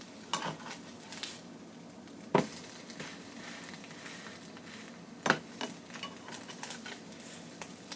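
Egg and onion frying in a pan for a brunch dish, giving a steady soft sizzle with two sharp utensil knocks or stirs against the pan, no voices.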